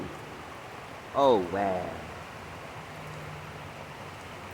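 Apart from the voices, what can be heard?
rain falling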